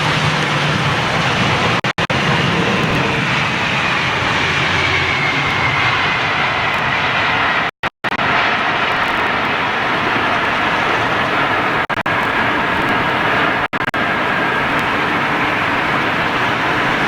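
A Boeing 777 airliner lands at Heathrow in stormy weather, its engines giving a loud, steady broadband roar that holds throughout with a few brief dropouts, with no talking.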